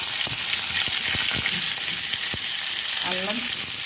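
Green chillies and curry leaves fry in hot oil in a pan, a loud continuous sizzle with a few stirring clinks near the start, close and steady.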